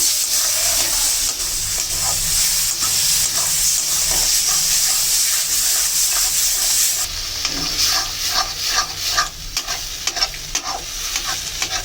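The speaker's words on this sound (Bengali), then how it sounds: "তারপরে এখন দিয়ে দেবো সেই কচু বাটাটা। একটু ভালো করে কষিয়ে নেব।" Spiced taro paste (man kochu) is stir-fried in a pan, first as a loud, dense sizzle that drops at about seven seconds into softer frying punctuated by repeated spatula scrapes and knocks.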